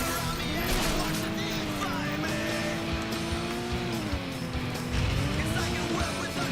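An off-road car in the racing game Crashday Redline Edition drives with a steady droning engine that rises and falls in pitch, with tire squeal and skidding, while someone talks over it.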